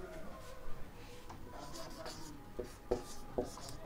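Chalk or marker scratches across a classroom board during a lecture on electrical resistance. The strokes come as soft, intermittent scrapes and taps, quiet and close.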